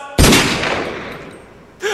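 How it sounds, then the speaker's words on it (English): A single loud gunshot cracks sharply and rings away into a fading echo, then a voice begins right at the end. "I then hear gunshots"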